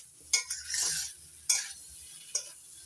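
Spice masala being stir-fried in a pan for a thin catla fish curry with potato and cauliflower: three sharp scraping stirs, one longer sizzling sweep, close and clear over quiet background.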